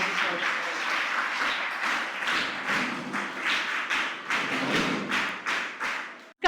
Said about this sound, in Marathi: जोरदार टाळ्या वाजवून आपण